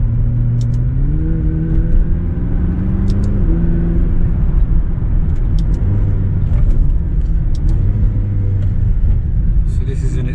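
McLaren 570GT turbocharged engine with a 7-speed dual-clutch gearbox, droning steadily from inside the cabin on a drive in normal settings, with pitch rising and stepping through gear changes and a constant road rumble.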